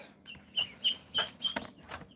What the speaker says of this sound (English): there's too many damn ducks